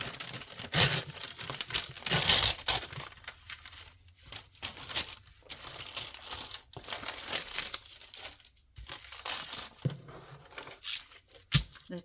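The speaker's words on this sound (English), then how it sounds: "this is like the paper you get from Amazon. I just kind of rip it here." Amazon brown packing paper being ripped and crumpled by hand, giving close, loud bursts of crinkling and tearing in irregular bouts with short pauses between, with no voices.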